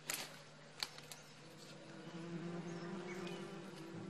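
Bees driven out of a hollow tree trunk by smoke in a Cameroon forest, a faint continuous buzzing drone with a few soft knocks at the start, heard at some distance.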